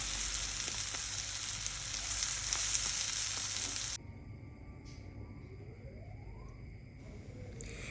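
Paneer fries in a pan for kadai paneer with a bright, steady sizzle that cuts off abruptly halfway, leaving a quieter background with faint rattles.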